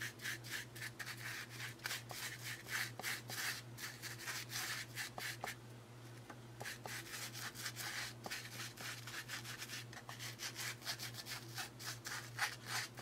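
A paintbrush spreads Martha Stewart paint inside a rough craft box: quiet, repeated brisk scrubbing strokes in a steady back-and-forth rhythm, close but faint, over a low steady hum.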